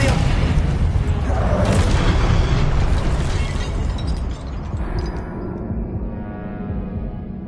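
An Expelliarmus spell in a wizarding game lands with a loud booming burst that rumbles heavily for several seconds and then thins into a fading, lower tail.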